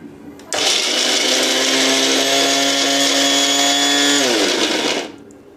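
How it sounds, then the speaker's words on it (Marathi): A mixer grinder chopping garlic and green chillies whirs up to a loud, steady high-pitched motor whine, holds for about four seconds and then winds down as it is switched off. "तर चला आपण हे लसूण आणि मिरची बारीक करून घेऊया"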